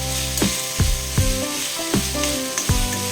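A tomato goes into a masala curry sizzling in a pan, with loud, steady frying broken by regular scraping stir strokes roughly every half second.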